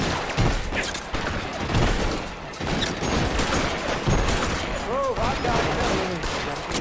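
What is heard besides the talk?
gunfire in a video game (Detective Phelps, L.A. Noire)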